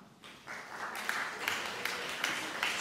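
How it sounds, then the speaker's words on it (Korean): Audience applause welcomes performers returning to the stage after an art song concert. It rises from near quiet into a dense, sustained wash of clapping at moderate volume, with no voices over it. "입장할 때마다 박수로 환영해 주시기 바랍니다"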